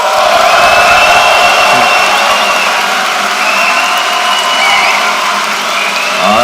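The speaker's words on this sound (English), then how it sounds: "I don't know which one you're cheering for." A large audience at a live debate on God and atheism cheers and applauds loudly and steadily, with whoops and shouts rising out of the crowd noise.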